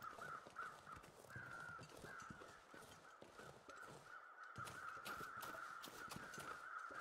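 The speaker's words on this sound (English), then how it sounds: "the crows are just excited" Crows in the video game The Long Dark caw repeatedly in a harsh, rapid series, several birds calling over one another against a quiet wind-like backdrop.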